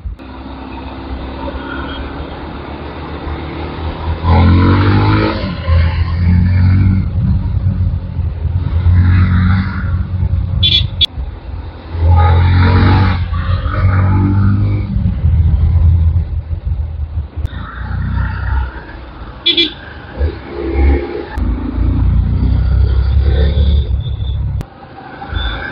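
Evening road traffic at Jaydev Vihar in Bhubaneswar, with passing vehicles and engines rising and falling in loud waves and brief high horn-like tones over a steady rumble.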